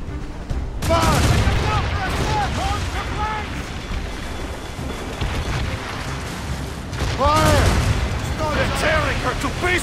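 Ship cannon broadside in Assassin's Creed Rogue, two volleys of rapid overlapping booms crackling out with whistling projectiles, loud and close, amid shouting and battle noise.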